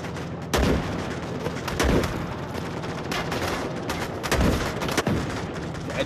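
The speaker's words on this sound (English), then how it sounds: "I tried to shoot the explosive, I'm sorry." Gunshots fired at an explosive in the VR shooter Onward, several loud, separate cracks spaced about a second apart over steady background noise.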